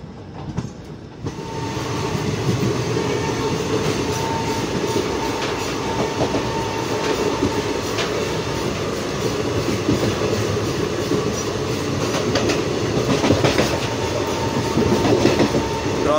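Onboard the Nandigram Express between Adilabad and Mumbai, a steady rumble of the coach rolling on the rails with rhythmic wheel clatter, loud and continuous after a quieter first second, with no one speaking.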